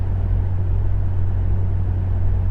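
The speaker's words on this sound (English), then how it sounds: "Also in this car is an aftermarket dual exhaust that sounds really good." A 1970s luxury sedan fitted with an aftermarket dual exhaust gives a deep, steady rumble from close by, a constant low drone throughout with no voices.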